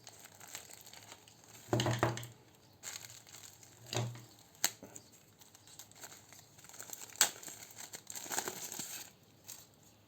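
Plastic packaging around a car-cleaning brush crinkles and tears in several short bursts, close and fairly quiet, with pauses between the rustles.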